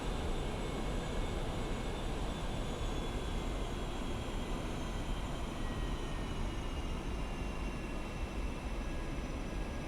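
Steady roar of an A-4E Skyhawk jet engine in the DCS flight simulator as the aircraft lines up on the runway for takeoff: a dense, constant broadband whine with faint high tones held for the whole stretch.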